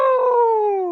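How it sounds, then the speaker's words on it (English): A chilling, drawn-out howl rises from a demilich skull as its head tilts back, a loud sustained tonal wail that slowly sinks in pitch across the whole second, ringing through a dungeon room in the Tomb of Horrors. "as it kind of this chilling howl emits throughout the entire room"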